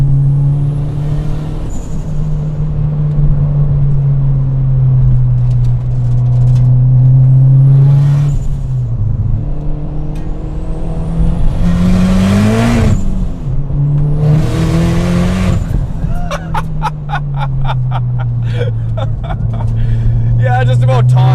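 A 500-horsepower Dodge Caliber SRT-4 accelerates hard, its engine droning loudly with rising pitch and distinct gear-shift breaks, while people talk inside the car over the noise.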